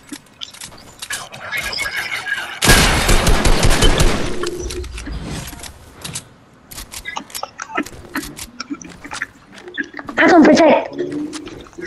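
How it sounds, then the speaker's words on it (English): Video game shootout with a loud dense burst of rapid gunfire, then scattered sharp shots and later another close burst, mixed with excited talking between players. "They're shooting at me."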